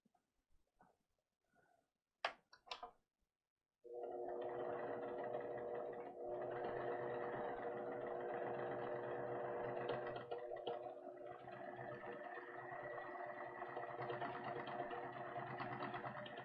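A sewing machine stitches down the sides of a vinyl tissue case, starting after a few soft handling clicks and then running in a steady, close, continuous whir to the end.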